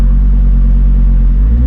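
A 1000hp Audi RS3 with a full custom G-Force exhaust gives a brief, very loud, deep and steady engine rumble, heard close by with no talking.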